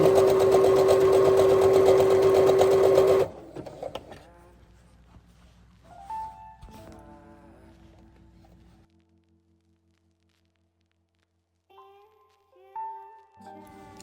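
A sewing machine zigzag stitches a faux fur headband. It whirs loud and steady for about three seconds, then stops, leaving faint handling and rustling sounds.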